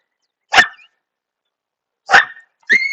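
A dog lets out three sharp, loud barks close by: one alone, then after a pause two more in quick succession, in an otherwise quiet room.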